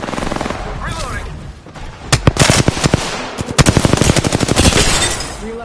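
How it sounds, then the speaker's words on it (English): Rapid automatic gunfire bursts in the video game Apex Legends, loud and close, with two long strings of quick shots after a quieter opening, a voice talking over parts of it. "Shot fired. And they're hitting me."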